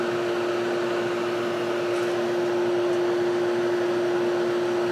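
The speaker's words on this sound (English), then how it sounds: "After stalling the fan, pressure went up, so the compressor's working harder." A vintage Whirlpool window air conditioner with a Seegar rotary compressor runs with its fan stalled, giving a constant loud drone with a strong steady hum and broad airy hiss, close and unchanging throughout.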